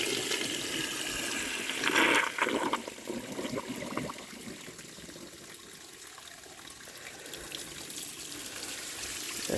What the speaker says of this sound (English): let's give it another flush.